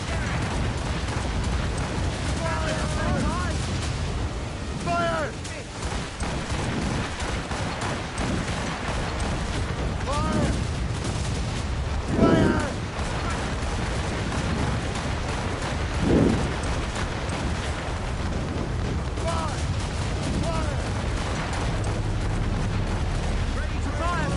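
Ship cannons booming in a naval battle in Assassin's Creed Rogue, with several heavy blasts scattered through a dense, constant roar of game sound while voices shout over it.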